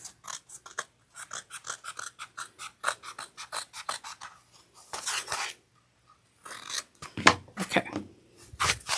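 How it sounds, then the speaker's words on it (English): Scissors snip excess stabilizer from a fabric panel of a crossbody bag, a quick run of dry cutting clips and rasps, then scattered louder snips after a pause, close and clear with no talk. "trim off any excess stabilizer"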